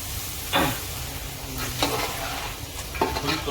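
Dried turkey berry curry (vatha kuzhambu) simmering in a pan, with a steady soft bubbling hiss and a few louder stirring scrapes spaced about a second apart, no talking.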